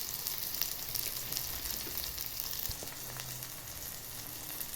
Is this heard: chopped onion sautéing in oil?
yes